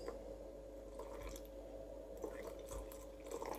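Water is poured gently into flour while making bread dough, producing a faint, soft trickle with a few scattered drips and light squishy splashes.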